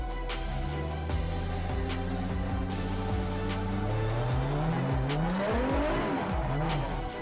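An 800-horsepower race car roars loud and close on a track, its engine pitch climbing and falling through gear changes while tires squeal in long, sliding bursts.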